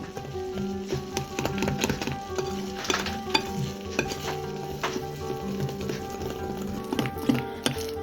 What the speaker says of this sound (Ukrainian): добре перемішавши вінчиком